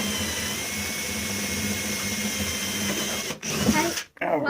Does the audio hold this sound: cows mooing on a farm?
no